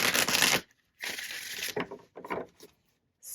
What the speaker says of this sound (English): Let me give it another good shuffle here.